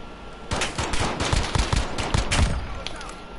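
Rapid pistol gunfire from the video game Call of Duty Modern Warfare, a dense run of close, sharp shots fired in quick succession with only faint voices underneath.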